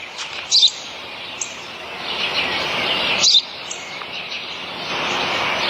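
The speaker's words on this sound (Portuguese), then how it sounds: "Isso é um pardal." A sparrow chirping outdoors, two short bright bursts of chirps several seconds apart over a steady wash of background noise.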